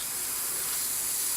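Aerosol spray paint hisses steadily from a can as it coats a Deathwing miniature, a continuous close, even spray with no pauses.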